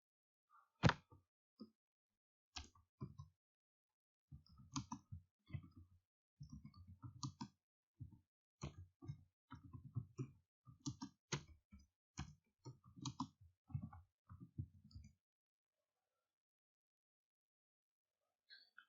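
Mouse clicks while building a switchboard form in Microsoft Access, sharp isolated clicks at first, then dense irregular runs of clicking and tapping, close and fairly quiet with no talk over them.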